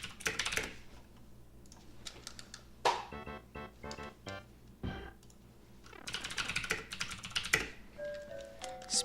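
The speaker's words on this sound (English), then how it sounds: "Speed typing over here" Rapid typing on a computer keyboard during a Mario speedrun: dense, quick clacking keystrokes in irregular bursts, fairly close, with a few sharper louder hits and background game sounds.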